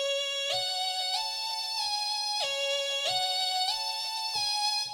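A bright synthesizer lead plays a repeating melodic phrase, with evenly spaced sustained notes ringing out clearly and alone.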